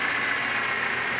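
A BMW S54 car engine treated with an engine additive idles smoothly and quietly, a steady even hum with no distinct knocks or revving, heard alone at close range.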